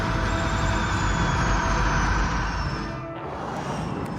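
Formula E race car passing along the track, a loud broadband whine and rush with a high tone sweeping downward as it goes by, fading toward the end.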